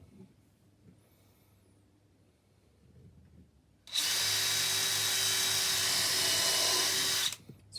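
Battery drill driving a screw into a wooden planter box, a loud, steady high whir lasting about three and a half seconds before stopping abruptly, after a quiet stretch with faint handling noise.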